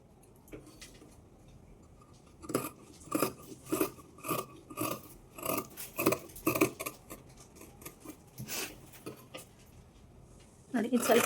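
Scissors cutting cloth crosswise to shape a blouse neck make a run of crisp, rhythmic snips close by, several in a row, after a quiet start and before a louder rustle at the end.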